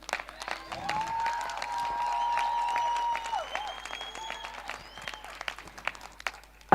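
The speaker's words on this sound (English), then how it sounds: "Please may we clap for Naledi." An audience at a youth conference session in a Johannesburg hotel breaks into sustained applause, dense clapping that carries on for several seconds with a whistle-like tone and scattered voices mixed in before it fades.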